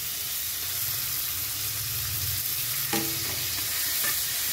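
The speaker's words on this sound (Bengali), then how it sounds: "এবারে টমেটো, আদা, জিরে, কাঁচা লঙ্কা সব দিয়ে দিচ্ছি" Tomato, ginger, cumin and green chili hitting onion and garlic frying in a pan, a continuous close sizzle with a few sharp spatters and clatters partway through.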